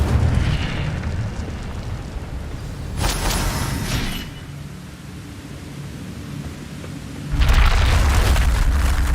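An Incendio fire spell is cast in Hogwarts Legacy: a sustained roaring, whooshing blast of flame-like noise with a surge at about three seconds and a heavier booming rush toward the end, loud and continuous.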